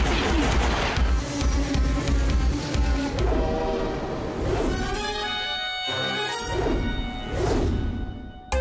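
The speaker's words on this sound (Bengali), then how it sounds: "প্যাসেঞ্জারদের বক বক আর ট্রেনের চুক চুক চুক চুক চুক খুব মিস করেছি আমি।" A cartoon train runs on the tracks, with a rattling rumble, clanks and a tonal horn-like blast, loud and busy throughout, no voices.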